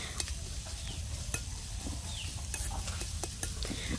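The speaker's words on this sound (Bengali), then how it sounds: "শাকের জন্য বাগার দিয়ে দিয়েছে এখানে পেঁয়াজ, তারপর রসুন দিয়েছে, আর কাঁচামরিচ ফালি দিয়েছে।" Onion, garlic and slit green chillies sizzle in hot oil as a tempering for greens, with a soft steady fry broken by scraping stirs and light clinks of a spoon against the pan.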